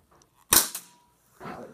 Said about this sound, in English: I'm gonna shoot the whiteboard